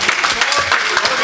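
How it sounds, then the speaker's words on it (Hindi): Audience clapping at a ghazal concert in New Delhi, a steady patter of many hands close and fairly loud, with a voice speaking over it. "जोरदार तालियां"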